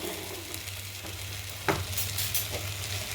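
Ginger, garlic and green chillies frying in a pan for beef stew, a steady hiss of oil with a low hum beneath and one brief scrape of a spoon midway, close and moderately quiet, with no talking.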